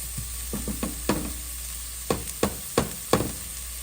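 Lobster ravioli ingredients cooking in a pan, with a soft steady sizzle under a series of sharp scraping and clattering knocks from stirring, spaced irregularly and fairly close, with no talk.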